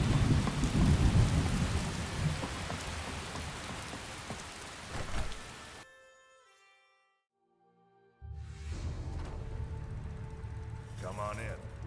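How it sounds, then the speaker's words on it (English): Heavy rain pours with rumbling thunder in the video game Skyrim, then cuts to near silence for a couple of seconds before the downpour resumes, steady and close. "What a downpour!"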